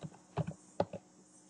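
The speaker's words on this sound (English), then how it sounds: "First and foremost, type in tell DAOS MGR" A few soft keystrokes on a computer keyboard tap out a DAOS command on a Lotus Domino server, three or four quiet, close clicks spaced irregularly within a second, then silence.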